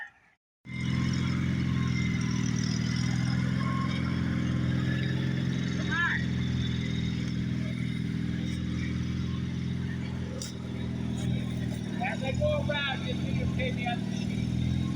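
Gravely 16G Professional lawn tractor engine idling steadily after start-up, a continuous low droning hum that holds level throughout, with faint occasional clicks over it.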